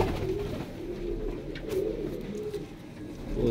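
Pravasi breeder pigeons cooing close by, a low, throaty, rolling coo repeated in soft rhythmic phrases over a faint background murmur.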